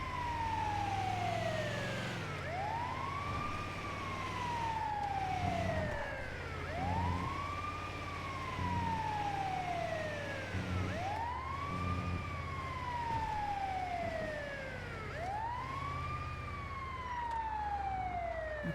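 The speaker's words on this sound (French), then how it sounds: "Voilà, sirène." Emergency vehicle siren wailing in a repeating rising-and-falling cycle about every four seconds, moderately distant and steady with traffic rumble underneath.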